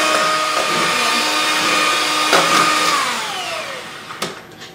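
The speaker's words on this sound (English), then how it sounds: "you can increase the mixer speed to medium high" An electric mixer whips cream at medium-high speed, a loud steady motor whine close by that tapers slightly near the end, with brief knocks against the bowl.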